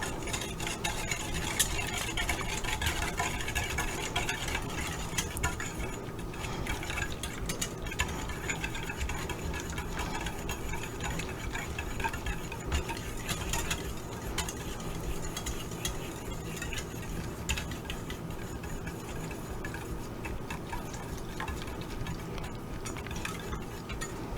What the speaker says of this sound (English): We're gonna whisk all this together.